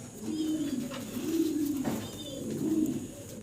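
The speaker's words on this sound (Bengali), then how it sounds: "চমৎকার একজোড়া হাই ফিলার কবুতর দেখাচ্ছি আপনাদেরকে" A pair of green-neck Budapest high flyer pigeons coo close by in three soft, rolling phrases over a faint background hum.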